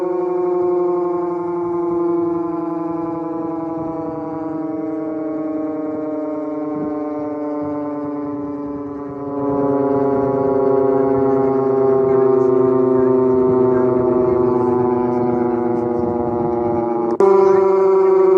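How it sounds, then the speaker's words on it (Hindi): A long, steady air raid siren wails continuously at ITO, Delhi, with rich harmonic tones, rising in intensity partway through and holding loud to the end, with a brief jump near the finish. "अगर आपको भी आपके आसपास सायरन बजता हुआ सुनाई दे"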